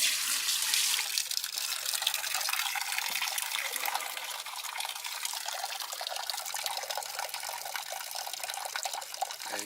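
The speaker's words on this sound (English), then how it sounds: "go ahead and dump some of this old stuff in to help flush it out" Old solvent pours into a parts washer to flush it out, a continuous gushing, splashing stream of liquid, close and fairly loud throughout.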